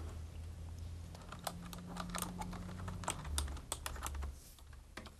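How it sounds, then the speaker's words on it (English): Quick, irregular clicks of typing on a computer keyboard are heard up close in a quiet room, with a low hum underneath and no voices. "I'm just typing in holiday events"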